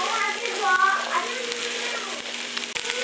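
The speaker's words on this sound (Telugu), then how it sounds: "ఈ విధంగా వేగిన తర్వాత చిక్కుడుకాయ ముక్కలు వేసుకొని బాగా కలుపుకోవాలి." Chopped lima bean pieces fry in an Indian masala pan with a steady, crackling sizzle. Occasional scraping stir knocks and a low background hum sound underneath.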